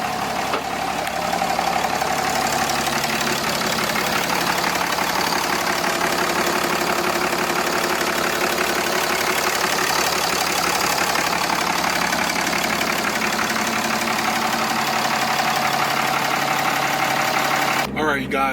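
Truck engine running while driving just after an oil change and transmission pan install, a steady loud low drone with constant idling-like rumble and knocking texture, continuous until a sudden cut at the end.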